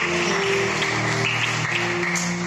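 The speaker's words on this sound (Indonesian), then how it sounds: "tepuk tangan dulu untuk Tuhan Yesus" A church congregation claps steadily during a Sunday morning worship service, giving a dense, loud wash of applause over a sustained hum of background tone, with no speech.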